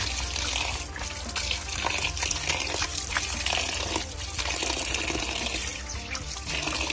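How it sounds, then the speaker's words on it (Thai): Tap water pours steadily into a plastic bag, a continuous broadband splashing rush that stays loud and even for several seconds with no voices, while preparing fermented bamboo shoots. "เอาน้ำใส่ถุงถ่วงนะครับน้ำใส่ถุงถ่วง"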